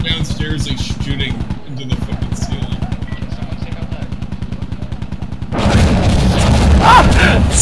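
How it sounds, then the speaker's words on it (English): Rapid automatic gunfire from below in the video game Insurgency Sandstorm, a steady rattling stream of shots that cuts off briefly, resumes, then gives way to louder, roaring combat noise. "Downstairs, like shooting."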